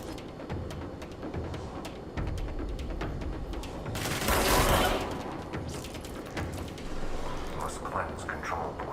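Gunfire in the video game Control, bursts of rapid shots and impacts over a rumbling background, with a loud swelling blast midway and voices talking throughout.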